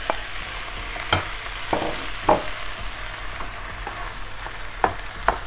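Meat and vegetables for lasagne stir-frying in a hot pan: a constant sizzle runs underneath while a spatula scrapes and taps at irregular intervals, close and clear, without speech.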